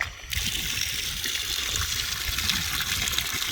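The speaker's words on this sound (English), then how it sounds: "Turn your water back on" Water gushes steadily from an opened tap while a sample bottle is rinsed outdoors for a chlorine residual test, the close, continuous rushing flow starting abruptly after a brief quiet moment.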